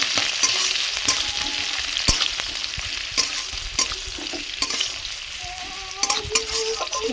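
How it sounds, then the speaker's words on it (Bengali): Chopped onions fry with slit green chillies and five-spice in a pan, producing a loud, close, continuous sizzle. Sharp stirring clicks and scrapes of a spatula break through it at irregular intervals. "পেঁয়াজ কুচি দিয়ে পেঁয়াজগুলো একটু ভালো করে ভেজে নেব"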